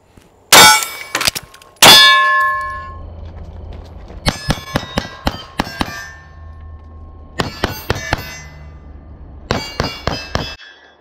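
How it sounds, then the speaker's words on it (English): Rifle rounds ringing off a steel plate rack during a shooting-on-the-move drill, with sharp metallic clangs in quick bursts, several groups of four to six rapid hits separated by short pauses, loud and close with ringing decay. "just your standard shooting a plate rack on the move"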